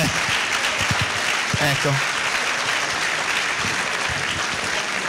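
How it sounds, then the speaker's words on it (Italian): Audience applause for the scouts of Rimini at an evening talk event in Santorso, a dense steady clapping that fills the hall while someone speaks briefly over it. "si meritano un applauso"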